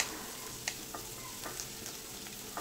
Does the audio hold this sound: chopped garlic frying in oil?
yes